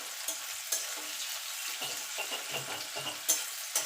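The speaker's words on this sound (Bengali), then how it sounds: "এবার পেঁয়াজটাকে একটুখানি ভাজা ভাজা করে নেব, খুব ভাজবো না।" Onion frying in oil for a water spinach dish, a steady crackling sizzle close by with a few sharp spatula scrapes and stirs, loud and continuous with no talking.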